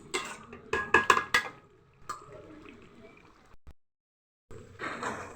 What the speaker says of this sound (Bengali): এই যে আমার মাংস এখন কষাতেই থাকবো